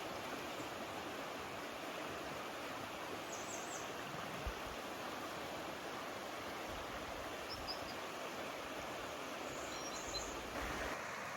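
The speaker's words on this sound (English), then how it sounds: "Gently the river Ahr flows through my hometown Bad Neuenahr." The river Ahr flows gently through the town of Bad Neuenahr, a steady, even wash of moving water that sits close and fairly soft throughout, with no voices.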